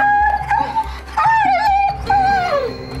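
An injured dog cries in pain after a car crash, giving repeated high whimpers and yelping wails in close succession, loud and near, with faint voices beneath.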